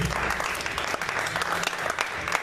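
A church congregation applauds during a sermon, a dense, steady wash of many hands clapping at once for a few seconds with no voices standing out.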